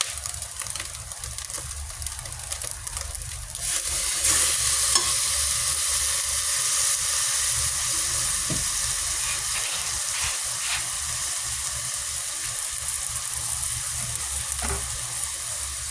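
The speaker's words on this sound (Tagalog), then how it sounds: "So, lutuin din natin yung patis guys." Fish sauce bubbling and sizzling loudly in a hot pan while ginisang upo is sautéed, a constant close hiss that swells after a few seconds and stays steady, with occasional stirring scrapes and no talking.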